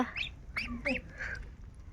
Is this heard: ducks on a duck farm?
yes